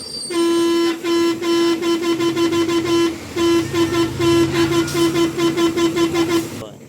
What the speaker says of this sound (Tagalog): O pakinggan natin, tunog ng busina niya ngayon.